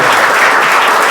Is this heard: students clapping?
yes